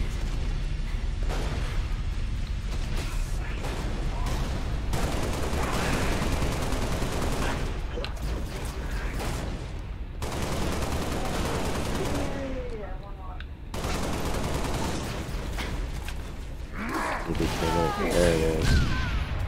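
Dense Halo: Reach Firefight combat, with continuous rapid gunfire, bursts of automatic fire and a grenade explosion, loud and close throughout, with people talking over the fighting.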